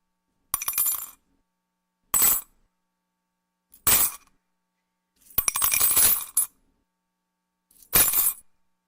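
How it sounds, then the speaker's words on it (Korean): Coins are dropped in five separate bursts of metallic clinking and jingling against silence, with the fourth burst the longest and fullest, all heard close and clear. "동일하게 동전 소리를 들려드릴 텐데 이번에는 다양한 소리가 들릴 겁니다."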